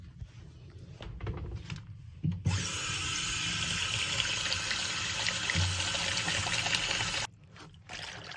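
Running tap water pours steadily for about five seconds while cyanotype-printed knitted fabric is rinsed, a close, full rush with a constant hiss that starts abruptly and cuts off, with quieter handling noises before and after.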